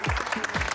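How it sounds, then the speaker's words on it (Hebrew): Short burst of applause for volunteers at a Magen David Adom station in Kiryat Gat, a small group clapping nearby with rhythmic low thumps. "הכפיים הם בשבילכם, באמת."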